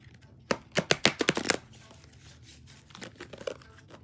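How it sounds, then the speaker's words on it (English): Tarot cards are shuffled in a quick burst of crisp riffling flicks, close by, followed by a few softer shuffling rustles. "I like to shuffle it just a few times."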